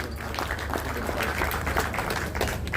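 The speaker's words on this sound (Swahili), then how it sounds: "Pigieni Medhu makofi mzuri." An audience at a gathering claps together in a dense, fairly distant burst of applause that holds steady for a few seconds.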